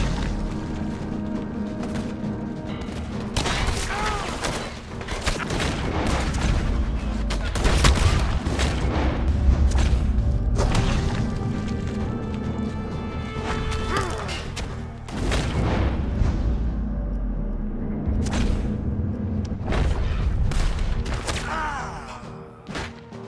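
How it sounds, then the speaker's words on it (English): Repeated gunfire in Red Dead Redemption 2, a chaotic shootout of booming shots and bursts of rapid fire rolling over a steady low rumble, loud and continuous throughout, with a voice talking in places. "Who's shooting at me now?"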